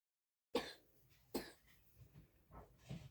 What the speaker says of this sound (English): I'm really sorry about the coughing and stuff